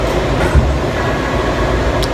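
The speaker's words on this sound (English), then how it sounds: "We're on the metro." Inside a moving metro train, a loud continuous rumble of wheels and carriage fills the space, with a faint knock near the start and a brief high squeal toward the end.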